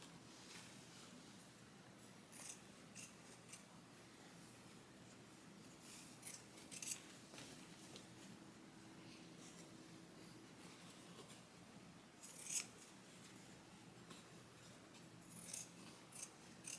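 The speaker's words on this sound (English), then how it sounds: "Whatever scissors these are, whatever shears" Scissors or shears snip thread on an embroidered toddler t-shirt, with faint, sparse clicks and cuts scattered over a quiet hum from the room or a machine.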